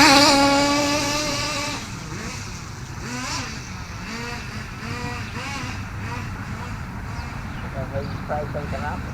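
A Kyosho nitro RC car engine running during break-in, first buzzing at a high steady pitch, then revving up and down in repeated rising and falling bursts, loud and close outdoors, with a voice talking over it.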